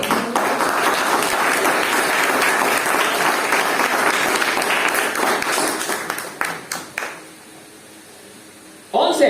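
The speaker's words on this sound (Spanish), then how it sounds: "Denle un aplauso." A church congregation claps in loud, sustained applause that thins out and fades after about seven seconds, leaving near-silence before a voice briefly returns at the end.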